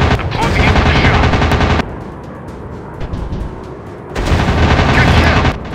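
WW2 fighter plane machine guns rattle in the Warplanes mobile dogfight game: two long, loud, continuous bursts of rapid fire, separated by a quieter stretch of engine drone and faint ticking.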